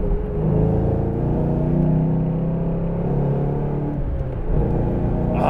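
A 2014 Shelby GT500 cruising at about 2,500 RPM gives a steady, loud low engine rumble and drone with road noise, continuous with no talking.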